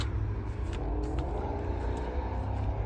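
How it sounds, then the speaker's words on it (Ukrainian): Someone revs a car engine nearby on an outdoor lot of small used cars, a low steady rumble with slight rises in pitch, alone and moderately loud. "Хтось газує там."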